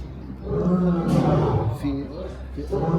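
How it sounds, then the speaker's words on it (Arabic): Lions at a caged enclosure in Syria, including a rare white lion, let out deep, rumbling roars that rise and fall over a few seconds, loud and close, with people talking over them. "صوت زئير الاسود من الاقفاص الثانيه صوت مرعب"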